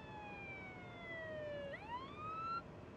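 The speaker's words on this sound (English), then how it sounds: "I'm gonna play siren sounds and show you how that looks like in real time" Emergency vehicle siren played back from a phone, a single wailing tone sweeping down then rising again, fairly faint against steady background hiss, no talking.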